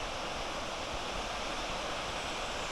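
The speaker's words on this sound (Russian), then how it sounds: "Последний взгляд на водопад." Steady broadband rush of a waterfall in a mountain gorge, continuous and fairly distant, with no voices.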